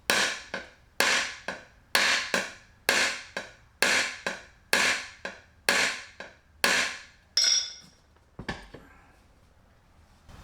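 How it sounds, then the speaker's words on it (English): A hammer bangs a dent out of a motorcycle rim with the tire still mounted on a 1974 CT70, about ten sharp, evenly spaced metallic strikes close up, then a few lighter knocks. "to bang out this dent, I found that it's most easy to do it while the tire is still on the rim"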